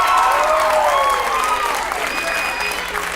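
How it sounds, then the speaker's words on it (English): A studio audience breaks into sustained applause, a dense wash of clapping that starts loud and slowly tapers, with a voice speaking over it. "Give yourselves a round of applause."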